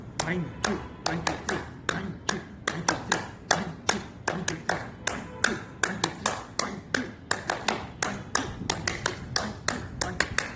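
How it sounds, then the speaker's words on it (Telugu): Participants in a Sunday yoga class clap their hands together in a brisk, fairly regular rhythm of sharp claps, several people slightly out of sync, with an instructor's voice occasionally heard between them. "మనకి యోగాన్ని ప్రసాదించిన పతంజలి స్వామి వారికి కృతజ్ఞతగా క్లాప్స్ కొడదాం."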